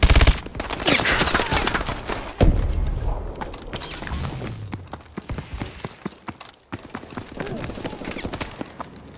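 Sustained bursts of automatic gunfire in a multiplayer shooter game, loud and dense, rattling continuously with brief breaks and overlapping shots.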